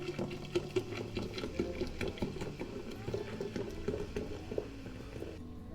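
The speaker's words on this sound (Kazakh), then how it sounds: "енді ең соңғы этап осындай газдалған суды құямыз" Carbonated water is poured into a lime mojito, with a fizzy crackling patter over a steady low hum.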